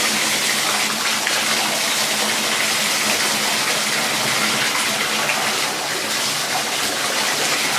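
Water gushes steadily from a Symmons shower valve after a cartridge replacement, a loud, even hiss of running water with no pauses.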